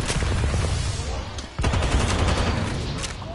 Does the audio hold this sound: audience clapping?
no